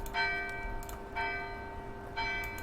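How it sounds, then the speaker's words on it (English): Church bells toll in the Universe Generator video game, three resonant strikes spaced about a second apart, each ringing out and fading over a steady low background hum. "I like the church this time. And the ringing bells."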